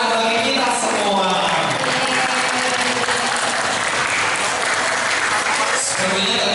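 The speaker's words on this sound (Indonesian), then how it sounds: "Tepuk tangan bagi kita semua." An audience at a Sumpah Pemuda youth gathering breaks into loud, sustained applause, with voices talking and calling out over the clapping throughout.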